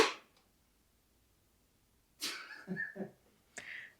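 A single sharp sneeze bursts out nearby, followed by a short breathy sound and a second quick exhale, with quiet gaps between.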